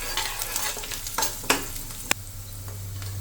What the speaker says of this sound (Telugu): అల్లం తురుము, సన్నగా కట్ చేసుకున్న పచ్చిమిర్చి, కాస్త కరివేపాకు, పల్లీలు దోరగా అయ్యేంత వరకు వేయించుకోవాలి.